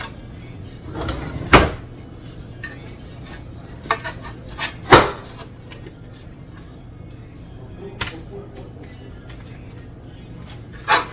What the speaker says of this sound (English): Take a knife around the edge here.